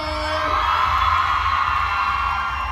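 Loud crowd cheering and whooping at a Thai secondary-city tourism festival ceremony welcoming a singer, a dense continuous roar of voices holding steady throughout.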